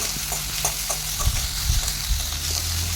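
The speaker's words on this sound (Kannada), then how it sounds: "ಇವಾಗ ಇದನ್ನು ಒಂದು 2 ನಿಮಿಷ ಫ್ರೈ ಮಾಡೋಣ." Capsicum, onion and spring onion stir-frying in a pan for gobi manchurian, a steady loud sizzle with a few scraping stirs and clinks of a spatula against the metal.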